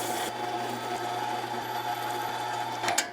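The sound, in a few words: meat grinder grinding cold sausage meat through coarse die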